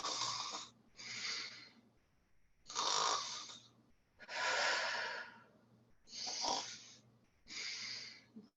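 Deliberate loud snoring breaths in a kundalini yoga kriya for releasing anger, six rough, rhythmic rasping breaths in steady succession with short pauses between them, close and alone.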